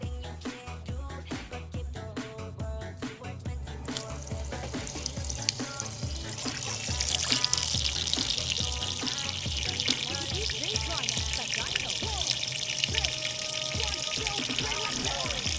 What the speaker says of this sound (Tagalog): Banlawan muna natin ito isa lang.